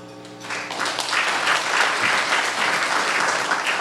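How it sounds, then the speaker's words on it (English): An audience bursts into loud, steady applause at the launch event for a diaspora credit union, the dense clapping building within a moment and holding at full strength throughout. "Round of applause, ladies and gentlemen."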